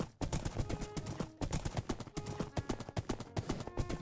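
Horse hooves clip-clop rapidly in a fantasy video game, a close, brisk, continuous galloping rhythm with short pauses between bursts.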